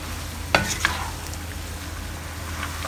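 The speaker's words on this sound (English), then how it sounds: "Stir it up well again, and it's time to serve them." Seafood udon noodles with sesame oil stirred in a frying pan: a couple of sharp utensil scrapes against the pan over a steady low sizzle, close and without talk.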